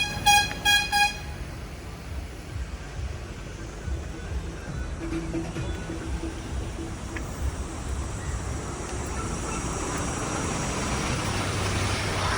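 Repeated car horn toots sound near the start, then a steady rumble of engines and traffic noise from a jam on the Kasara Ghat mountain road continues, growing slightly louder.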